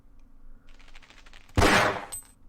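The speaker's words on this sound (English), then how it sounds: "I heard the gunshot" A single loud gunshot in the Half-Life video game, a sharp near blast after a brief stretch of quiet rapid ticking, followed by a short decaying tail.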